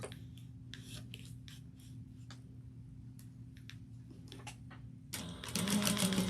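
A sewing machine stitching a crossbody bag at 2.5 mm stitch length runs in short bursts of rapid whirring, quiet and close, then a louder rustle of fabric handling at the end.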